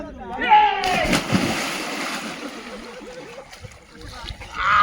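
A loud splash of someone jumping into a monsoon stream pool, followed by sloshing and churning, with people shouting and talking around it.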